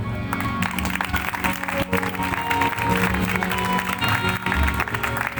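Clapping from a church congregation in Karachi during a worship service, mixed with sustained musical tones underneath, running at a moderate, even level for about five seconds.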